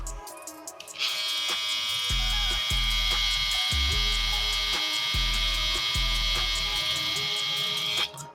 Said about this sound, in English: Let's see what the RPMs are and also how loud the trimmer is.